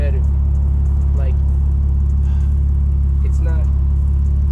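A BMW E46 with a custom-built exhaust idles with a deep, steady low drone, loud and close, while someone talks over it.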